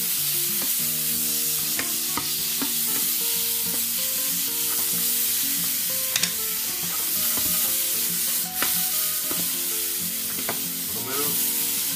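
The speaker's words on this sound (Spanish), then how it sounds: "No podéis dejar de estar con un fuego alto. Recomiendo que no pare de remover." Beef tenderloin and mushrooms frying over high heat in a pan, a constant close sizzle broken by scraping clicks and clatter as the food is stirred repeatedly.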